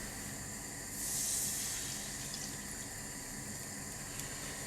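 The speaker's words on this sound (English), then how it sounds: "Now in the frying pan, you want to add 200 mils of red wine," Red wine poured into a hot frying pan, a brief hissing sizzle that swells for about a second and then settles into a steady, soft background hiss.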